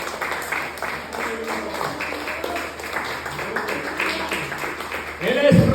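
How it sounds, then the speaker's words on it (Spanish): A church congregation claps along as an offering of praise, an uneven patter of many hands under a preacher's continuing Spanish sermon, growing louder at the end. "Denle una ofrenda de palmas, hermano"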